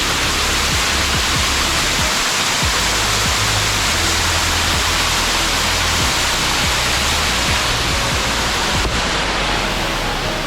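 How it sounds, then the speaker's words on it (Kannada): Kethenhalli Falls near Bangalore gives off a loud, constant roar of rushing water that fills the scene steadily, with no voices over it. "ಎಷ್ಟು ಚೆನ್ನಾಗಿದೆ, ಬ್ಯೂಟಿಫುಲ್ ಆಗಿದೆ ಅಂತ ಕೇತನಹಳ್ಳಿ ಫಾಲ್ಸ್."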